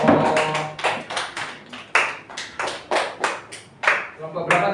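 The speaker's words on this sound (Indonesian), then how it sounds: "Beri tepuk tangan untuk penampilan dari" A burst of hand clapping from a classroom, with uneven, rhythmic claps, fairly close, rising and falling in clusters over several seconds.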